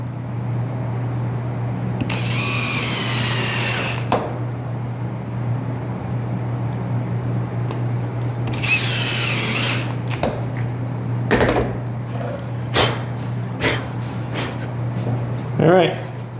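Power drill driving three screws into a wooden bench hook in a workshop, loud whirring bursts near 2–4 s and 8.5–10 s over a steady low hum, followed by scattered clicks and knocks.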